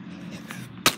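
A baseball bat smashes into a broken computer, giving a single loud, sharp crack at the very end of a brief stretch of low background noise.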